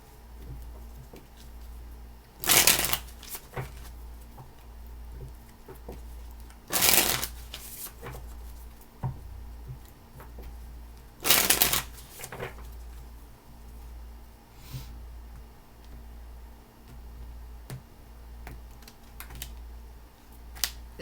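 Tarot cards being shuffled in three distinct bursts of riffling, each a short crisp flutter, with scattered soft taps and card handling between them over a low steady hum.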